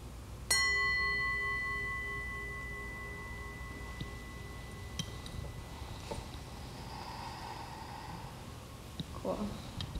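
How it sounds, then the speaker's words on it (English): A meditation bell struck once at the close of a guided meditation, ringing out clearly with a long, slowly fading tone in a quiet room; faint rustling follows, with soft sounds near the end. "In a moment, I'll ring the bell"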